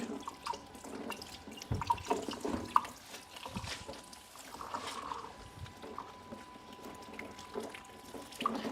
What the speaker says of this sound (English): I'm gonna use the butterfly whisk. Just give me a couple of seconds just to wash it.